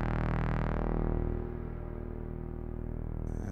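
Reverb applied to a wavefolder synthesizer, producing a sustained, harmonically dense drone that buzzes steadily. The drone is loud at first, then softens slightly and darkens as the high end fades, with no talking.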